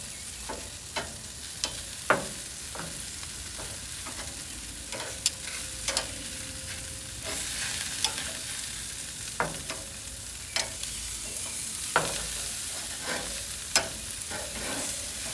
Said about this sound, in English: Flip. They're gonna sear up good, okay?